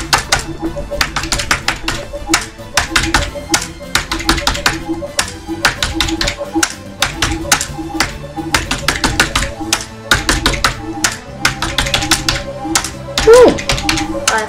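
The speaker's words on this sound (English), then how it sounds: "There's my computer. Right, let's type in some stuff then." Fast, loud typing on a computer keyboard: dense rapid key clicks come in bursts with short pauses, close to the microphone, and a voice is briefly heard near the end.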